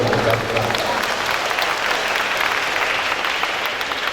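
An audience applauds steadily at a school event for a community school in Kediri, a dense, even patter of many hands held at a constant level with a faint murmur of voices beneath.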